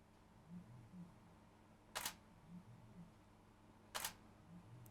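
A camera on an iFootage S1A3 motorized slider, set to shoot-move-shoot, fires its shutter twice: two sharp, faint clicks about two seconds apart over a quiet low hum.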